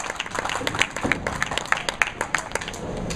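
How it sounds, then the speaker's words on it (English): Scattered clapping and cheers from a bowling alley crowd during a handicap tournament, a steady patter of hands with sharp individual claps popping out above a busy background. "top seed has a crowd rooting for him too"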